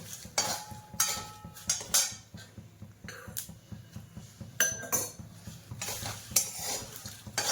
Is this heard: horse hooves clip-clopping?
no